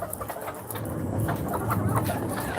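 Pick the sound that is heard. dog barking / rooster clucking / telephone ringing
rooster clucking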